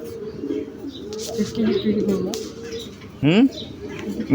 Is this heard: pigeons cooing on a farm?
yes